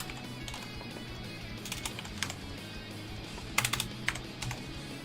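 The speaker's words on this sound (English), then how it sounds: "typing too fast." Rapid clattering keystrokes on a computer keyboard during a live Stud.io building session, a steady stream of close, crisp taps with a few louder bursts near the end, under quiet room background.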